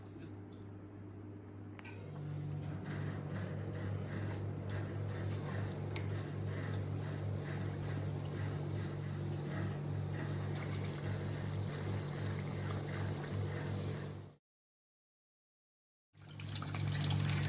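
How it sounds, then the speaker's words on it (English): Vada pav potato balls sizzle steadily in hot deep-frying oil, a continuous loud hiss with a constant low hum, broken by a short silent gap near the end. "We're gonna dip these bad boys into here, and then we're gonna deep fry these"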